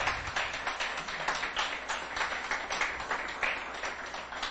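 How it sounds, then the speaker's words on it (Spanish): A church congregation claps steadily in a fast, dense rhythm throughout, a sustained round of applause heard from within the crowd, fairly soft overall. "Dele ese fuerte aplauso al Señor."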